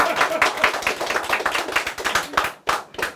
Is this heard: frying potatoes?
no